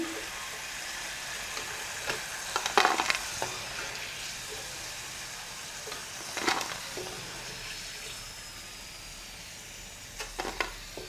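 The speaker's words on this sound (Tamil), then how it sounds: "மீதி இருக்கக்கூடிய சேனக்கிழங்கையும் இந்த மாதிரி போட்டு பொரித்து எடுத்துடலாம்" Pieces of elephant foot yam fry in hot oil, a steady close sizzle with occasional bursts of crackling and spatter, no voices over it.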